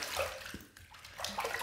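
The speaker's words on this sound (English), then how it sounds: "Let's rinse." Tap water runs steadily during a rinse after a shave, a close, soft, continuous splashing with brief shifts in flow.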